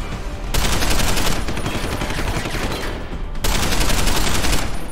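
Rapid gunfire in Deus Ex: Human Revolution, loud and dense bursts filling the scene with a short break around the middle before another barrage.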